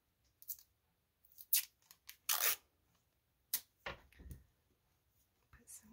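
Washi tape is pulled off the roll and torn in short, quiet bursts, sharp crinkly rips separated by brief pauses, close and faint.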